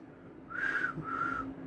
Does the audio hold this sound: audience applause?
no